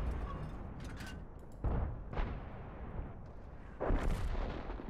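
Heavy artillery booms from a Hummel self-propelled gun in World of Tanks go off several times, each a deep, loud blast with a rolling rumble, spaced a second or two apart with no talking.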